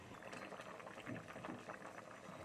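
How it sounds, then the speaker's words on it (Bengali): Vegetables with prawns and green tomatoes bubble in a pot, a steady busy simmer of wet popping and gurgling that runs throughout at close range with no talk. "দেখো না কেন আমার সবজিটা ফুটছে"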